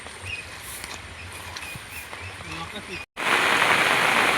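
Heavy monsoon rain in a Konkan village falls steadily, a soft hiss at first that suddenly turns into a much louder, dense downpour after a brief gap.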